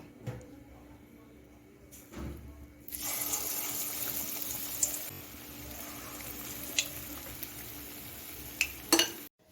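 Coriander leaf pakoras go into hot oil with a sudden loud sizzle that then carries on as a steady frying hiss, broken by a few sharp clinks and pops up close.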